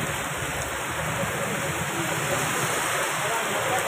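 Heavy monsoon rain pours down in Udaipur with water collecting in the streets, a loud, steady broadband hiss of downpour throughout, with faint voices underneath.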